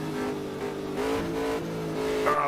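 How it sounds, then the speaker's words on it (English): Race cars in the Automobilista 2 sim racing game at Watkins Glen screaming at the limit, a loud sustained high-revving engine whine with shifting pitch and no talk over it. "The car on the limit are just absolutely screaming."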